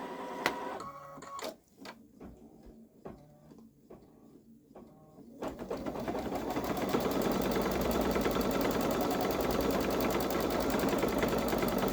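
Babylock Solaris 3 sewing machine doing edge-to-edge quilting on a sweatshirt: a few clicks and short motor whirs, then a loud, steady rapid stitching rattle that continues to the end.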